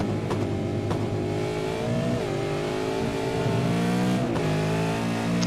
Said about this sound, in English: It's great to hear these cars backfiring when you're off the gas